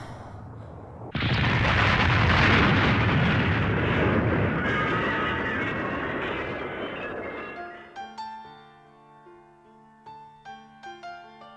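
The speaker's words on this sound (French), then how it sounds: "Il explose!" Cartoon explosion of a hotel in an animated City Hunter episode: a sudden loud boom erupts into a long roaring rumble that slowly fades, then gives way to ringing, tonal debris and chime-like sounds with sharp hits, no voices.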